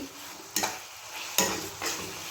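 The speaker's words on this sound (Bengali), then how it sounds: "চলুন ভেজে নিই, তারপর আপনাদের দেখা।" Food frying quietly in a pan under a constant soft sizzling hiss, broken by three scraping stirs or turns of a utensil, close and low in level, with no talking.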